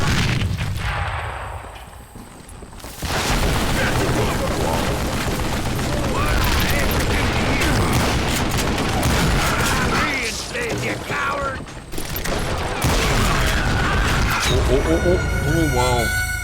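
A Gatling gun firing in the Western shooter Call of Juarez Gunslinger, a dense, loud, sustained mechanical rattle of rapid shots with booming impacts that runs almost without pause, mixed with game sound and voices.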